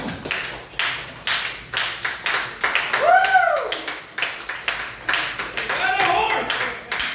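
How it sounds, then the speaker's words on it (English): Audience clapping after a stand-up comedy set comes as individual sharp claps in an uneven, fairly sparse rhythm from a small crowd, with a couple of whooping voices rising over it. "Keep clapping for David Coffin, everybody."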